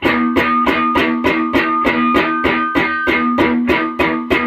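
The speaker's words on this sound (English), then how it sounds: "the way I'm muting is just by barely laying my fingers on top of the strings, where they just make this sound." Muted guitar strings on the main riff, fingertips resting lightly on the strings: a steady, driving run of percussive scratchy strums with faint ringing harmonics, close and alone.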